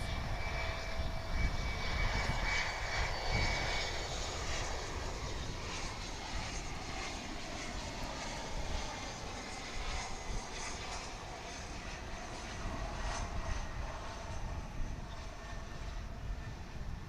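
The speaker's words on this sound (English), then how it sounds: "CRJ 701ER. It's flight 3273 operated by SkyWest Airlines." A SkyWest Airlines CRJ-701ER regional jet at Dallas/Fort Worth International Airport makes a steady, broad engine roar with a low rumble and a faint high whine, holding fairly even throughout, heard alone without voices.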